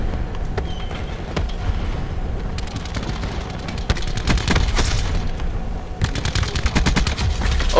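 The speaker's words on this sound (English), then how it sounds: "That gun is OP as hell, dude. Especially with that drum mag." Bursts of rapid automatic gunfire from a drum-magazine gun in the Black Ops 4 video game rattle loudly and continuously, with denser volleys in the middle and at the end.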